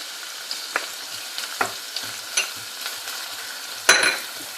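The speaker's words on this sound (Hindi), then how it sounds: "अब मैं अदरक लहसुन का पेस्ट डाल दूंगी।" Ginger garlic paste fries with onions in oil for white chicken karahi, a soft continuous sizzle broken by scattered stirring taps and one louder scrape near the end, no talking.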